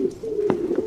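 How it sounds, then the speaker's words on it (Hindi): Pigeons coo close by at night, a soft, throaty rolling call repeated a couple of times in quick succession, with no voices over it. "और ये कबूतरों की आवाज।"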